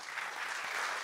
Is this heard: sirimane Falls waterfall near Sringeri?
no